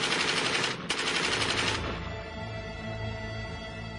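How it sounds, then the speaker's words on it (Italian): Kalashnikov rifle gunfire as a sound effect: a dense, loud burst of automatic fire, a brief gap, a second burst, then a fading rumbling echo. "Colpo di Kalashnikov sparato a distanza."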